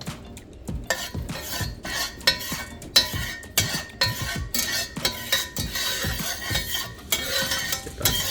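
Homemade bacon fat melts in a frying pan and is spread around, a soft sizzle under busy scraping and clinking of a utensil against the pan, close and continuous.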